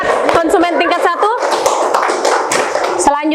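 An elementary classroom group claps in a quick burst of many hands, mixed with children's voices and chatter throughout.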